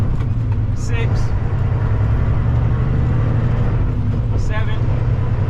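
An old Volvo 10-speed truck cruises with its engine droning low and steady while the driver floats gears without the clutch, a constant near rumble throughout, with brief high squeaks on top.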